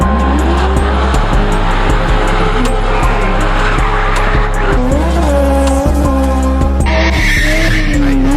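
A BMW 325i spinning in a South African motorsport setting, tires squealing continuously over a loud, revving engine that rises and falls, close and intense throughout.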